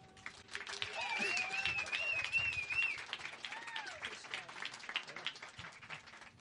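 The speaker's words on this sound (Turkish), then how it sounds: "Alkışlarla efendim" A studio audience claps to welcome guests onto a Turkish show, a spread of applause swelling then thinning, with people talking and calling out over it.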